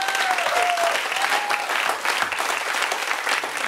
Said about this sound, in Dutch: Dus nogmaals een daverend applaus voor jullie en jullie collega's.